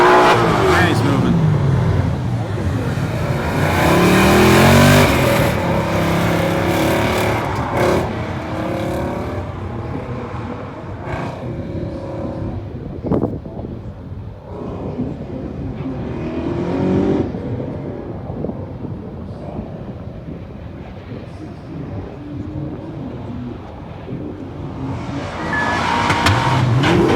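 Race cars running close together near the end of a race, engines roaring loud and steady with passing surges, while people talk over the noise nearby.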